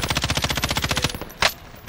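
Rapid automatic gunfire from a weapon in the video game Warzone, a fast, even burst of about twenty shots lasting roughly a second, loud and close, followed by a brief sharp noise.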